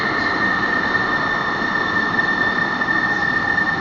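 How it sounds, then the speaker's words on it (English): A light rail train pulls into a Seattle station bound for Angle Lake, giving a steady loud rumble with a sustained high wheel squeal and no talk over it. "we now have a train coming in, going to Angle Lake"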